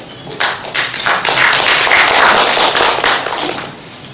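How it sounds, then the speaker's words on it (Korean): Brisk applause from an audience at a herbal medicine industry foundation briefing, welcoming a speaker. Scattered claps swell into a dense, steady round nearby, then thin out at the end. "뜨거운 박수로 맞이해 주시기 바랍니다."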